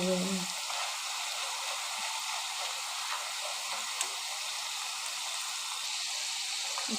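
Jackfruit pieces being double-fried in deep oil and turning brown, a faint, even sizzling hiss with an occasional small tick as the pieces are tapped.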